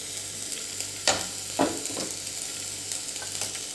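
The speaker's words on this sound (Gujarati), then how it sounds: "હવે તેલ આપણું ગરમ થઈ ગયું છે તો એની અંદર બે ટેબલસ્પૂન જેટલા ઝીણું સમારેલું આદું અને મરચાંના ટુકડા છે તે એડ કરીશું" Chopped ginger and chili pieces frying in hot peanut oil, a steady soft sizzle with a few brief louder stirring scrapes, close and alone.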